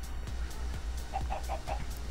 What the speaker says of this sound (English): the chickens are right there